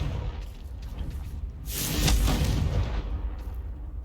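A Confringo blasting curse in a Harry Potter video game erupts in a single broad whooshing explosion that swells to a loud peak midway and fades into a rumbling tail.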